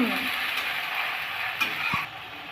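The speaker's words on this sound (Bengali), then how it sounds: "এখন আমরা ভাজবো মশলাটা হালকা ভাজবো" Spice paste with onion paste, curry leaves and a pinch of asafoetida frying in a pan, a steady close sizzle with a faint stirring scrape, no voices.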